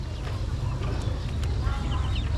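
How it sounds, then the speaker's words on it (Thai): Live chickens and ducks cluck at the central market in Khoun, Xieng Khouang, with scattered short calls over a constant low market rumble. "เนี่ยเป็ดไก่ยังเป็นเป็ดอยู่ สามารถซื้อซื้อไปกินก็ได้ซื้อไปเลี้ยงก็ได้"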